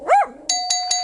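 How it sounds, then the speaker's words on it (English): A dog-themed Jackbox Games game show plays a bright doorbell ding-dong, three clean chiming tones evenly spaced after a short rising dog whine, loud and close. "that bell is making our contestants think someone's at the door"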